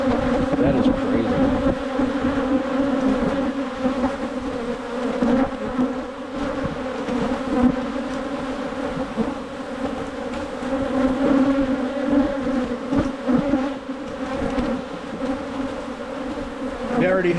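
Dense, steady buzzing of a honey bee colony in an opened hive, hundreds of insects humming close and loud throughout with a constant droning tone and no pauses.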